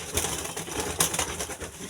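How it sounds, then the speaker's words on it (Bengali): A tournament racing pigeon gives soft, low coos close by, with faint rustling between calls over a brief stretch. "এই যে অসাধারণ একটা কবুতর।"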